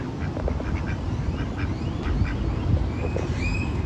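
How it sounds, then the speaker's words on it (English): A male duck (drake) at Trinity Park Duck Pond in Fort Worth, Texas quacks repeatedly in short nasal calls, with outdoor ambience and soft rustling throughout. "The tail curled indicates it's a male duck, a drake."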